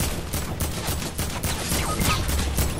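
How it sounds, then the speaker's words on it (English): Dense video game gunfire rattles continuously in quick overlapping bursts, loud and close, with rapid repeated shots filling the whole stretch without a pause. "I'm just gonna have to shoot at him"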